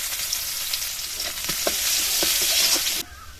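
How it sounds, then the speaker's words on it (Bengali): Chopped onion frying in mustard oil, a close, bright continuous sizzle with light stirring scrapes, loud throughout before dropping off abruptly at the end. "পেঁয়াজটা এরকম লাল করে ভেজে নিয়েছি"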